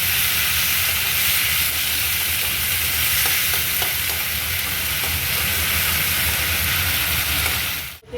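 Ready-made spice paste goes into a simmering Bengali-style cabbage kofta curry, raising a loud, steady, hissing sizzle that runs unbroken until it cuts off sharply at the end.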